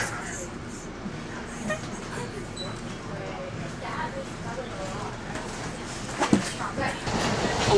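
Onboard a passenger train, a low, steady rumble and rattle of the carriage continues throughout, with a few clunks near the end and faint voices in the background.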